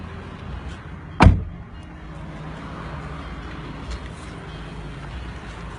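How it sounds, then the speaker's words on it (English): A single door shuts with one sharp, loud slam early on, followed by a low, steady rumble of background noise. "Close my door, please."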